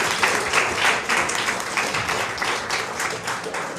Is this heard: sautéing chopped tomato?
no